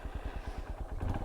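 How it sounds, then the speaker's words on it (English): A 2025 Honda XR150L dual-sport motorcycle's small single-cylinder engine firing up and settling into a fast, even, thumping idle with a slightly rough, tractor-like chug, heard close up and clear. "let's go ahead and fire it on with pulling the clutch."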